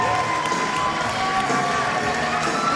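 A crowd at a 2017 SWYL wrestling championship at Frontier cheers as the wrestlers walk out, a steady, loud wash of voices and shouts filling the hall with no break.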